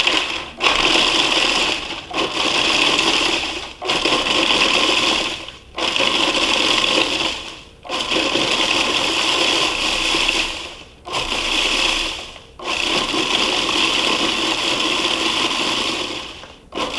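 Food processor grinding pita chips into fine breadcrumbs for muhammara, a loud close whirring roar in about eight pulses of one to two seconds each, separated by brief gaps, with no voices.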